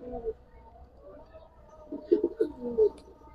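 Domestic pigeons, giribaz and coloured breeds kept for sale in Old Dhaka, give soft low coos that come in a short cluster toward the end after a quieter stretch, with faint background murmur.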